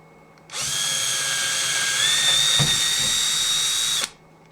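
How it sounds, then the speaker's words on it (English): Power drill boring a hole in a solar equipment board: a steady, close, loud motor whine lasting about three and a half seconds, rising slightly in pitch midway, then stopping abruptly, with no talk. "I can just go ahead and drill the hole."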